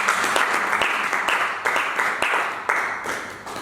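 A church congregation applauding during a sermon, with dense sustained clapping rising and falling in waves, loud and close, with no voices clearly audible above it.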